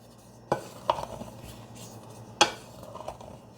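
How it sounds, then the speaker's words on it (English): Cornbread batter stirred together in a bowl: a few sparse knocks and clacks of a utensil against the bowl, with soft scraping between them over a quiet background. "Now you're gonna incorporate all of this together"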